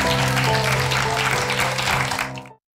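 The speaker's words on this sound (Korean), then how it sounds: "박수 한번 부탁드립니다." A live studio audience claps together loudly for a K-pop girl group, steady dense applause over lingering music that cuts off abruptly near the end.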